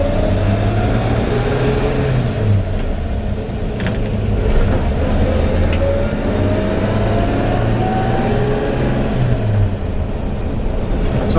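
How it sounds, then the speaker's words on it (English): A 1952 Chevrolet 3100 pickup with its 235 six-cylinder engine, heard from inside while driving: a loud, steady low engine drone with rising and falling pitch through gear changes, no talk. "let's take it for a quick drive."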